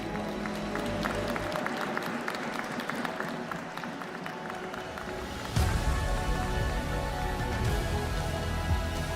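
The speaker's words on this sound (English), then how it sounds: "please one more time, a round of applause for Wei Yi." An audience applauds chess player Wei Yi at an Esports World Cup 2026 chess event, with dense clapping and crowd noise throughout that swells abruptly louder halfway through.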